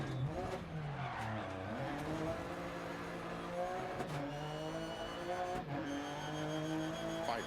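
Car engine and tire skid during a handbrake hairpin right turn in the Dirt Rally 2.0 rally racing game, with a steady revving engine and scrubbing tires throughout, and a co-driver voice calling pace notes over it.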